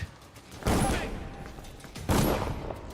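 Two loud bursts of gunfire from the stealth-action game Dishonored 2, each a dense, crackling volley lasting about half a second, separated by a quieter stretch of game ambience.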